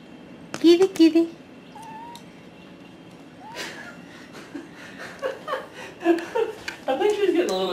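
An old cat gives several plaintive meows, spaced out over a few seconds, mixed with people chuckling and talking close by, someone calling kitty, kitty.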